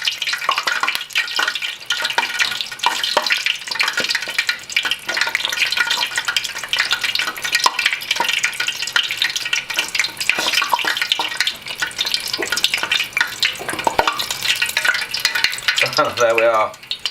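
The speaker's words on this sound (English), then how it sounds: "all of a sudden it'll just flare up, expand, and hey presto, we have our pork rind" Pork rind frying in hot oil as it puffs and expands, a continuous loud sizzle and bubbling with occasional stirring clatter, no talk heard.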